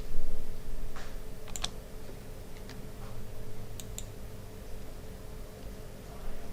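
Computer keyboard keys tapped while copying and pasting shapes with shortcuts during drawing of a cartoon brown teddy bear; a few scattered, fairly quiet clicks and short bursts over a steady low hum, with no talk.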